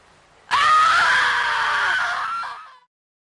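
A woman lets out one long, loud scream that starts abruptly, holds for about two seconds and trails off into silence.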